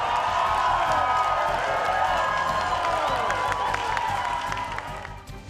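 A large crowd cheers and applauds after a sung song at a formal event, a broad sustained roar of clapping and shouts that holds steady and then begins to fade toward the end.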